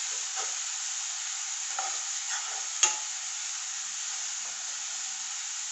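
Tapioca stir-frying in coconut oil with crushed shallots and chili, a steady bright sizzle with a few soft scrapes and one sharp clink of a utensil against the pan, close and unbroken.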